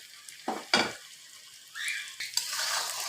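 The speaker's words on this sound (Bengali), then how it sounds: "আমি খুব ভালো করে কষিয়ে নিচ্ছি কচুটা" Taro pieces frying in leftover fish-frying oil in a Bangladeshi home kitchen, two sharp spatula scrapes against the pan followed by a swelling sizzle and further stirring, close and fairly loud, no talk.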